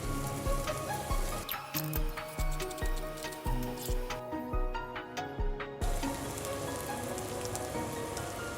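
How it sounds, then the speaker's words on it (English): Chickpeas fry in butter in a pan for a Turkish Alinazik kebab, giving a steady crackling sizzle with scattered sharp pops and spatters, close and fairly quiet, with no talking. "Fry the chickpeas a little bit with butter"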